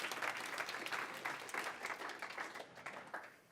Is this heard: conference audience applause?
yes